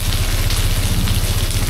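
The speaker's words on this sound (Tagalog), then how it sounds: "Medyo malakas pa yung ambon pero pwede na yan." Steady heavy drizzle falls at a camping site, a dense, continuous hiss of drops close by with no pauses and no voices over it.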